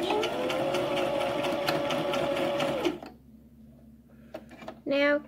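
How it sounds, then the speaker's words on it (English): A home sewing machine runs at a steady clip for about three seconds, stitching backward on a small crossbody bag, then stops; faint handling clicks and a brief voice follow. "Stop and do a back stitch."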